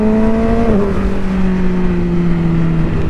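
Yamaha R6 motorcycle accelerating, its engine pitch climbing and then dropping in a quick gear change from the quick shifter before pulling again; loud, close and continuous with wind rush, no talking.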